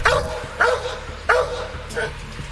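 A police K-9 dog barks in sharp, loud bursts, four or so spaced about half a second apart, during a sheriff's office call-out at a house, with a voice speaking around the barks.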